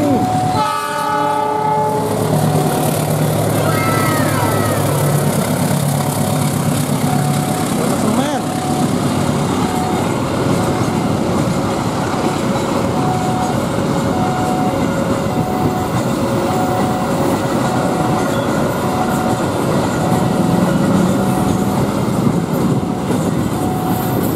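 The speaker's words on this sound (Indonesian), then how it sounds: "wah itu tuh suara lokomotif oh dari sebelah sini" The locomotive of the Serayu passenger train approaches near Cikarang with a loud, continuous heavy rumble and sustained horn tones that swell and hold, while people talk nearby under the noise.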